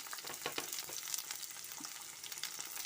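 Chopped onion sizzling in a hot pan as the first step of borscht with millet and egg, a dense, steady crackle with scattered pops and soft stirring scrapes, close and continuous with no voices.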